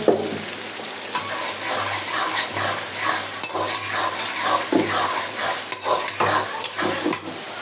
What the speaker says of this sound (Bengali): রসুন পেঁয়াজগুলো লাল লাল করে ভেজে নেব।